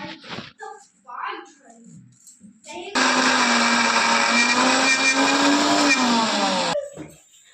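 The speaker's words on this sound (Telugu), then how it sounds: "ఆవాలు తెల్లగడ్డ మిక్సీలో వేసుకోవాలి" A mixer grinder whirs loudly and steadily for about four seconds as it grinds mustard seeds and garlic for mango pickle, starting abruptly after some quiet talking and stopping just as suddenly.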